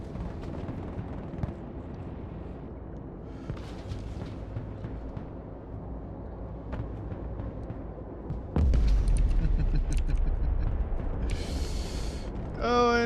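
Bombs from a supersonic heavy bomber burst in the Broken Arrow video game: a loud, sustained rumbling blast erupts suddenly and rolls on beneath a steady roar of battle, with a sharp crackle at the end.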